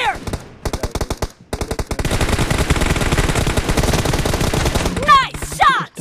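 Rapid automatic gunfire from PUBG Mobile, dense repeated bursts of shots that run almost nonstop, loud and close, with brief voice chatter near the end.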